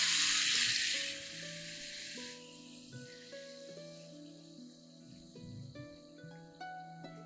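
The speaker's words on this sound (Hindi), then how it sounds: "ऑयल को गर्म करने के बाद इसमें चिकन का एक एक पीस डाल देंगे।" Chicken pieces dropped into two tablespoons of hot cooking oil in a pan give a loud, close hissing sizzle for about two seconds, then it fades beneath steady background music.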